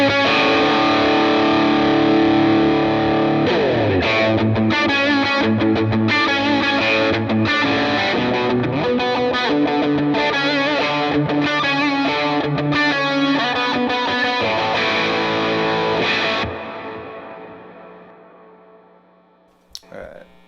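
An electric guitar through the Morning Glory overdrive on a Line 6 HX Stomp plays a continuous, driven chordal riff for about sixteen seconds, then rings out and fades, with a brief knock at the end.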